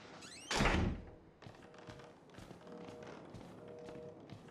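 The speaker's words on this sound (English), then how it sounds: "Shut this door." A door in the horror video game Outlast shuts with a single loud thunk, followed by quieter tapping and shuffling movement in a dim, hollow room.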